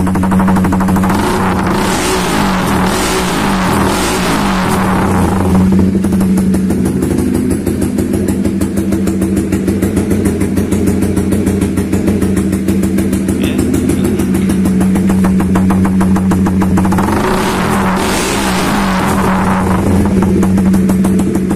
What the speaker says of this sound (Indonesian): kita mau cek sound dulu ya, cek sound knalpotnya ini